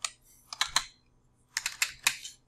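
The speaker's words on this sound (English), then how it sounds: "you can hit plus or minus on your keyboard" Someone types on a computer keyboard in two short, close bursts of crisp clicking keystrokes separated by a brief pause, in a quiet room.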